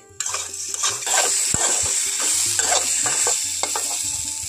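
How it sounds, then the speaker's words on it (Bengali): Potato pieces frying in hot oil in a home kitchen pan, a steady bright sizzle with intermittent clinks and scrapes of a spatula stirring, close and fairly loud, no voices. "বন্ধুরা এখন আমি আলুগুলোকে তেলের মধ্যে ভেজে নেব।"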